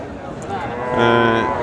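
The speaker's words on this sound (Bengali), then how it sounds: "তিনটি গাভী এখানে রয়েছে পাশাপাশি" Friesian cows at a Bangladeshi cattle market give a close, drawn-out moo that swells and holds for about a second near the end of a short clip, over a murmur of market noise.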